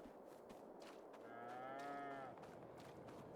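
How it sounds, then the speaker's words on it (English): Cows mooing in the Farming Simulator 22 video game, one long drawn-out moo rising and falling over a steady background hum, fairly clear and alone with no talk. "Wow, you loud cows."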